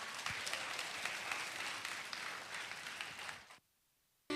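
Church congregation applauding to welcome a dance team at a Sunday afternoon worship service, a dense steady wash of clapping that runs for about three and a half seconds and then cuts off abruptly into near silence.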